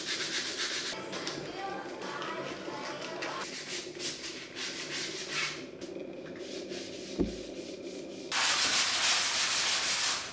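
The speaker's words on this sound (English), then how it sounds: "here's a little montage of all that sanding" Repeated sanding strokes rub across the wooden structure of a homemade BMO figure, a steady close scraping texture that shifts in pitch and intensity as the work changes, ending in a louder, denser burst of abrasion.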